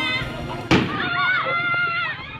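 An electric power pole in General Santos City bursts after a magnitude 7.1 earthquake, giving one sudden loud bang, followed by a lingering crackle and voices.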